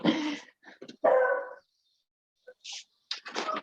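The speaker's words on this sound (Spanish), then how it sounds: "mi perra no para de ladrar" A dog barks in short, sharp bursts, loud and fairly close, with quiet pauses between groups of barks and no talking.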